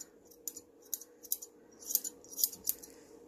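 Scissors trimming the fur around a dog's rear during grooming: a series of sharp, light metallic snips at an irregular pace, close but quiet, with no talking.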